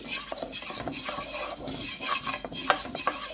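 Fenugreek seeds are dry-roasted in a pan, stirred with a utensil that makes repeated close scraping and rattling strokes over a faint sizzle, in an irregular rhythm.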